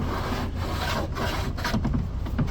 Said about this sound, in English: tie down cleats that are movable. You just loosen them up and then you can push and slide as needed.